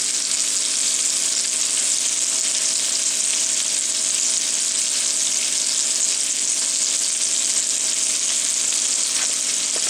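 Sharp cheddar cheese sauce sizzles steadily in a hot pan while being stirred, a constant close crackling hiss without pause for the whole stretch.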